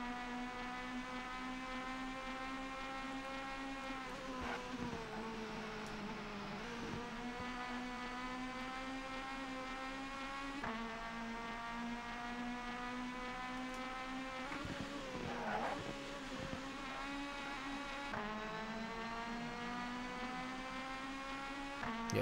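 Touring car engines roar steadily in the PS1 racing game TOCA 2 Touring Cars, a continuous high-revving whine with pitch dips at gear changes and braking, sustained at moderate level throughout without talk.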